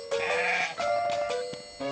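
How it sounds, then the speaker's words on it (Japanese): A goat bleats in a few wavering, nasal calls close by on an island where wild goats roam, with no talking over it. "島にはね、野生のヤギがいっぱいいるの。"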